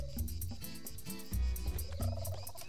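A turkey-like gobbling bird call from the Emperor's New Groove action video game, repeated over busy, fairly loud game music.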